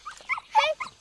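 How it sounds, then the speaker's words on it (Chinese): A puppy gives a quick run of high, yappy barks and whimpering yips, close and clear, three or four short bursts within a second. "小狗儿"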